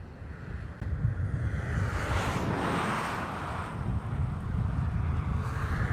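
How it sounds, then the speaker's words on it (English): Strong southeast wind of about 18 mph buffets the microphone outdoors at the SpaceX Starbase site in Boca Chica, Texas, on an evening, a steady loud low rumble with gusty swells throughout. "We got a relatively strong wind, maybe about 18 miles an hour from the southeast"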